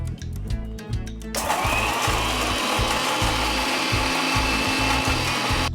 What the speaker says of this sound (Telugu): ఇప్పుడు దీన్ని కూడా మనం మిక్సీ పట్టుకోవాలి.